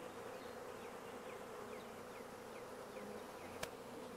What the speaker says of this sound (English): Big old drone.